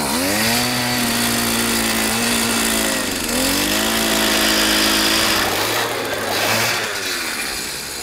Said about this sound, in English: Just drill until we mark something.